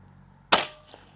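A single gunshot fired through a chronograph, one sharp loud crack close by that decays quickly into near silence.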